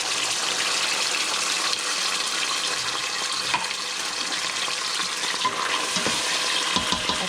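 Loud, continuous sizzling and crackling as sardines hit hot oil in a pan, with a few faint clanks near the end.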